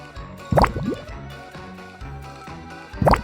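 Homemade colored slime is stirred in a container, producing two brief wet squelching plops about two and a half seconds apart over a quiet background.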